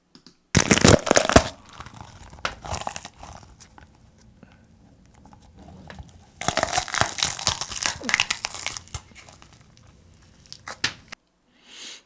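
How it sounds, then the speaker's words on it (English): Bell pepper crunched by biting, two loud bursts of wet crisp crackling and tearing, close to the mic, separated by quieter chewing crunches, no talking. "So here's the sound of the bell pepper again."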